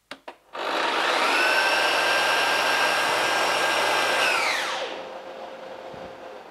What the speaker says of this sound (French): pour démarrer, il suffit d'appuyer sur les deux boutons